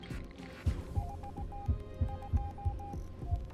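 Steady low heartbeat throbbing in Honkai: Star Rail, a regular thump roughly every third of a second over a constant hum, with faint repeated tonal blips above and no talk.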